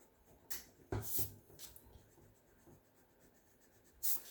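Pencil eraser rubbing out a stray line on drawing paper, heard as a few short scrubbing bursts that start and stop at close range in a quiet room.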